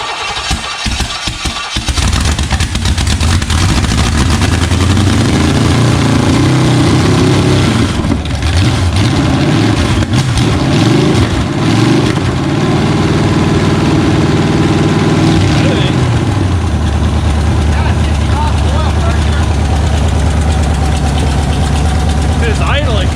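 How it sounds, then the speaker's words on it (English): Chevy 350 V8 on an engine stand, destined for a 1961 Pontiac, cranks over and catches, then settles into a steady, loud idle for about twenty seconds before the note drops as it runs out of fuel; people talk briefly over it. "It idled and there's no ticking, there's no lifter noise, there's no knock"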